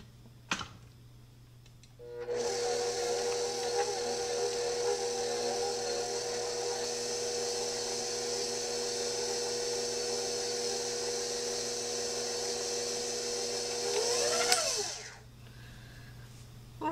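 An electric mixer on low speed beats pumpkin caramel butter bar batter, a steady whirring drone of about twelve seconds that starts abruptly and winds down at the end.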